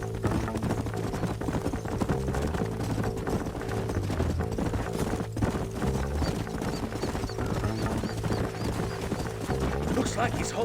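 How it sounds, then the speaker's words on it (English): Horses' hooves in the video game Red Dead Redemption, a steady galloping clatter running throughout beneath a constant bed of game music and ambience, with no clear pauses. "Let's hold up a minute and find a spot for our horses."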